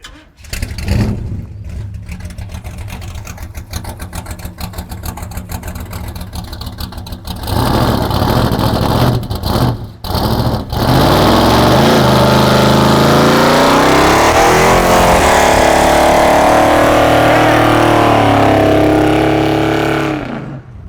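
A loud, deep big-block V8 engine barks and revs hard through straight-pipe exhaust, with rising and falling roars and brief pauses between blips.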